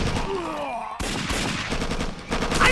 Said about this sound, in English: They are shooting at us!